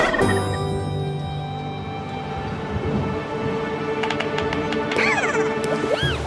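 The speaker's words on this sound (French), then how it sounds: "et des petits cochons et une dinde." A turkey gobbles in a rapid warbling burst, followed by sharp bird calls, over a steady rumbling background.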